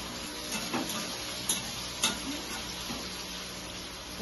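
Chopped tomatoes fry in a pan for a fish roe dish, giving a constant soft sizzle with a few brief scrapes and knocks of stirring, fairly quiet and with no talking.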